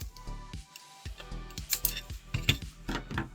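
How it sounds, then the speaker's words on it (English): Scissors snip through the thin magnetic tape of a VHS cassette reel in a run of short, close, crisp cuts, with a faint steady hum and hiss underneath. "what I can do now is again just cut this part off"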